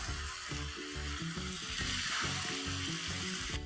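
Cashew paste sautéing in a hot pan for Mughlai chicken korma over a high flame, with a steady, loud sizzle over a churning low rumble and no voices.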